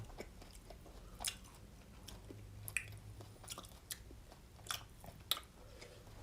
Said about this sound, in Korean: 우리 차돌박이 먹어요